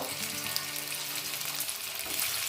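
Boiled potatoes frying in hot mustard oil, a faint, even sizzle and crackle running throughout with a low tonal hum underneath and no voices.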